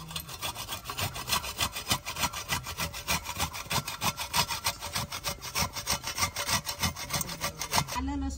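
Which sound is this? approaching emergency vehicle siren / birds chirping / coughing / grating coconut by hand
grating coconut by hand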